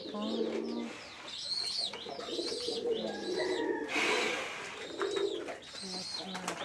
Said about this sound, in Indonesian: Ini burung dara.